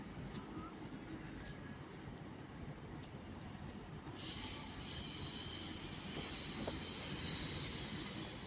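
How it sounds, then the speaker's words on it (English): A Transpennine Express train, a Class 185 unit, pulls into Manchester Piccadilly station with a steady rumble of wheels on the rails, and a bright metallic squeal rises and holds in the second half as it slows at the platform. "The train now arriving is your delayed 1313 Transpennine Express service to Cleethorpes via Sheffield"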